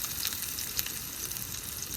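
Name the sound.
chopped onion frying in oil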